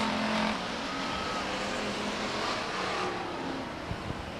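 Race cars in a qualifying heat at Stockton 99 Speedway, 1999, a continuous broad engine roar from the pack circling the oval, fairly loud and steady with faint tire noise and an announcer calling the action.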